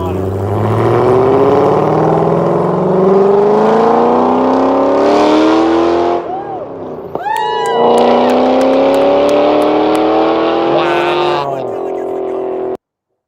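A rear-engine car revs hard through rising gear pulls, loud and close, with a brief drop in engine note mid-run before climbing again, and voices heard faintly beneath.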